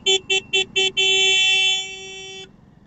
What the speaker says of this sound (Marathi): मजबूत ट्रॅफिक लागले, मजबूत.